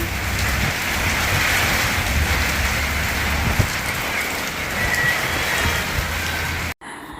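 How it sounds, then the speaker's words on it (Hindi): Heavy rain driven by wind falls in a loud, constant wash of drops with a low rumbling undertone, a single soft thump partway through, cutting off abruptly near the end. "हवा के साथ बारिश हो रही है।"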